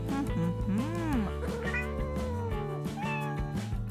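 A cat meows several times in quick succession during a doll hospital skit, with drawn-out, rising and falling cries sitting over steady background music.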